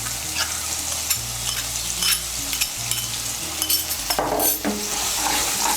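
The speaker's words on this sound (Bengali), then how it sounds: "এখন এর মধ্যে দিয়ে দেব বাটা মশলা।" A ground paste of cumin, coriander, dried red chilli and ginger fries in oil while a spoon stirs it round the pan, a loud steady sizzle broken by repeated scraping strokes.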